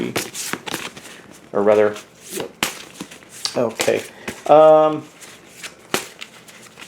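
A deck of cards for the Marvel United board game is shuffled in several quick riffling bursts, close and crisp, with a person talking between and over the shuffles.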